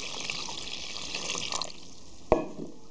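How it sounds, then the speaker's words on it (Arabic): Warm water pours into a bowl of dough ingredients with sugar and vinegar, making a soft, steady splashing hiss, with a sharp click near the end, heard close. "هلا بنضيف المي الدافيه"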